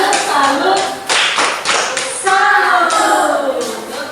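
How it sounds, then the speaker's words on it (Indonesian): A classroom group claps together in applause, several bursts of hands clapping in rhythm, with a voice speaking partway through. "Tepuk tangan untuk kelompok 1."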